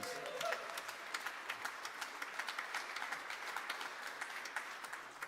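A jazz concert audience at a Christmas show applauds a pianist, a soft, slightly distant wash of many hands with scattered sharper claps, fading a little toward the end.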